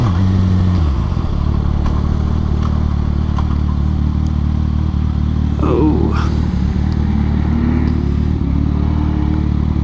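A truck revs its engine at a drag race track, the loud low drone climbing and falling over several seconds amid clattering, crackling ambient noise, with a brief voice near the middle.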